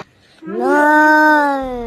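A mimic's voice imitates a cow with one long, loud, sustained lowing moo that rises and holds steady before tapering off, heard up close.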